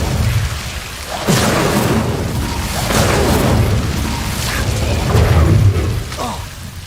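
Incendio fire spells cast repeatedly in the video game Hogwarts Legacy, producing loud booming whooshes and crackling bursts in quick succession over a dense rumbling battle backdrop.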